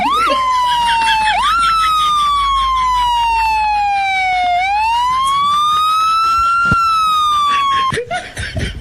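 A loud, close electronic ambulance siren wails in long rising and falling sweeps, cutting off abruptly near the end.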